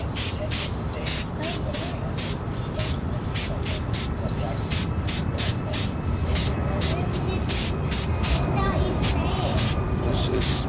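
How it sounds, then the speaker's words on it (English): Aerosol spray glue is sprayed onto Jeep Cherokee headliner pieces in a long series of short hissing bursts, close and loud, in a steady on-off rhythm over a constant background hum. "This is spray glue."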